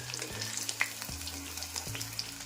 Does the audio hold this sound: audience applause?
no